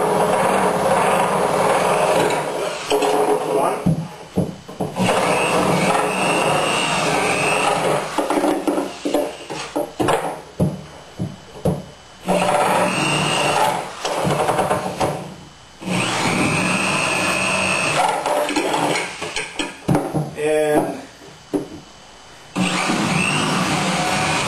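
A power drill bores into wood while a laminated mast partner is fitted for a small boat, running in loud bursts of whirring with short pauses between them; no one speaks.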